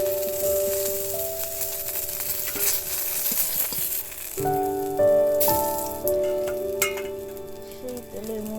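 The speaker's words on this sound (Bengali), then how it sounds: "আর এক পিঠ ভালো করে ভেজে নেই।" Fish frying in hot oil in a pan, a loud continuous sizzle and crackle with occasional pops and utensil clinks, close up, with no talk.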